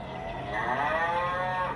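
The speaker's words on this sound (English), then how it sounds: "a cow is teaching her calf to moo" Recorded cow moo from a baby's animal sound book, a single drawn-out low moo at modest loudness with no voices.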